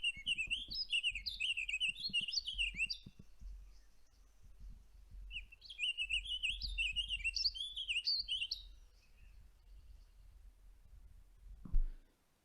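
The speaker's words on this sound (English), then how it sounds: "I'll just pull the Warbling Virio up on the Sibley app" Warbling Vireo song played back from a birding app, two long bursts of rapid, connected, lazily warbling phrases separated by a pause, clear and fairly loud, ending with a brief knock.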